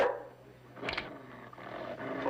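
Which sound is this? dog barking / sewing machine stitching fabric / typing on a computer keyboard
dog barking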